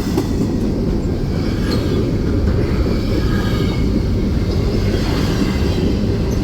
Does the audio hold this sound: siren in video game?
no